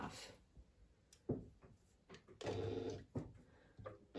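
A sewing machine top stitches fabric for a pouch at a long stitch length, running in short quiet bursts of rapid stitching separated by pauses.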